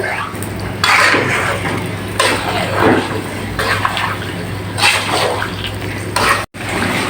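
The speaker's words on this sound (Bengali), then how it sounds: "চিকেনটা লো টু মিডিয়াম আছে রেখে ঢেকে ঢেকে দিয়ে ভালো করে কষিয়ে নেব" Chicken sautéing (kosha) in a pan over low-medium heat, with steady moderate sizzling and intermittent scraping and stirring noises from a spoon against the pan, continuing without talk.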